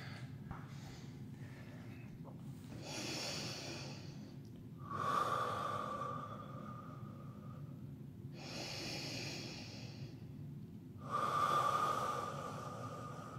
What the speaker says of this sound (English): we're just gonna take 3 breaths